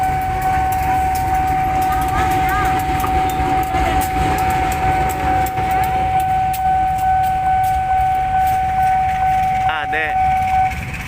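A long cargo train at Pasar Senen station rumbles past loudly and steadily, with rhythmic wheel clatter, a sustained horn-like tone and brief squeals near the end, while people talk under it.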